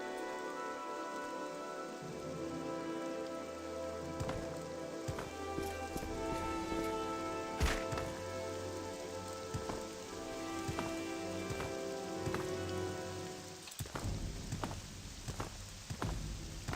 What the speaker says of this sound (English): Now it's raining.